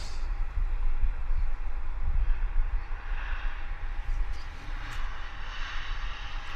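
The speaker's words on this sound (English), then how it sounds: "It's an Embraer, Delta Airlines, inbound, I believe, from Seattle." A Delta Airlines Embraer jet arrives at Vancouver airport, its engines a broad, steady roar with a low rumble that holds at a moderate distance and swells slightly before easing, with no talk over it.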